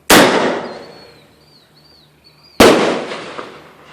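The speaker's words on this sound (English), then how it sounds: "This is the last firework," Two sharp, loud firework bursts launched from a grenade launcher, each a sudden blast that decays over about two seconds, with faint whistling tones lingering between them.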